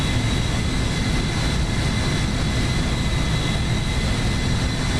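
An A321neo airliner in the X-Plane 11 flight simulator with thrust reversers deployed: a loud, steady engine roar with a broad rushing hiss, unbroken throughout and close, with no voices.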